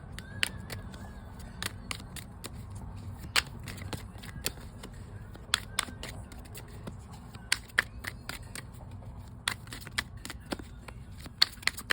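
Tarot cards shuffled by hand, a long run of sharp crisp riffles and snaps at irregular intervals over a low background hum.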